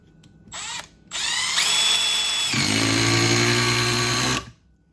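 A Milwaukee M12 Surge impact driver on speed 3 drives 2.5 inch wood screws, with a short whirring burst, then a long loud run whose pitch drops as the screw bites, stopping abruptly.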